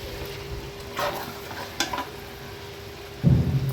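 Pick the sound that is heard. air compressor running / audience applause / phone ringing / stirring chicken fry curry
stirring chicken fry curry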